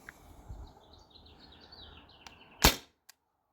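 A single sharp pneumatic report from a T4E TR68 home defense launcher firing a 9.9 gram riot ball, loud and abrupt, followed by a faint click, with quiet chirping in the background beforehand.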